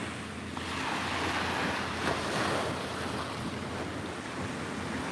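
Ocean waves wash continuously against a nearby shore, a broad steady roar of surf with wind buffeting the microphone.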